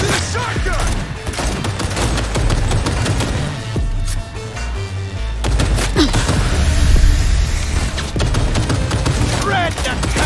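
Repeated shotgun blasts in the video game Cyberpunk 2077 (Phantom Liberty DLC), loud and dense heavy booms firing over a busy combat mix with voices talking throughout.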